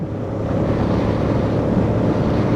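A Hyosung GT250 motorcycle engine pulls steadily up a hill in a high gear, a continuous low droning roar blended with wind rush and no pauses or gear changes.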